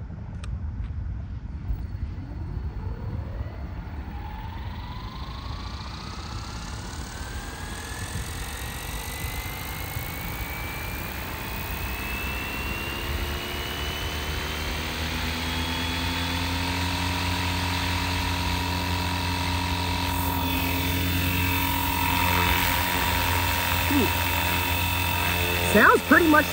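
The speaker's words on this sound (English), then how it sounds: "So let's arm the helicopter and let's see how it sounds." A small electric motor on an RC helicopter spins up from silence, its whine climbing steadily in pitch until the rotors settle into a loud, sustained buzzing drone.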